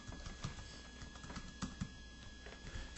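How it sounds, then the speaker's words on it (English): Someone types on a computer keyboard: quiet, scattered keystrokes tap in irregular bursts at close range over a faint steady hum. "I'm typing Copper."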